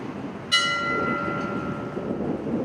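A fire department memorial bell at a 2020 September 11 ceremony is struck once, and its bright metallic tone rings on and slowly fades over a low background hum.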